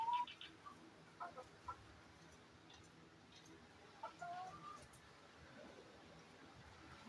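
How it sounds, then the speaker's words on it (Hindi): Hens cluck softly in short, scattered bursts, with an occasional rooster call, all faint against a quiet farmyard background. "ये देखिए हमारी मुर्गियाँ जी। ये मुर्गा है जी सरदार"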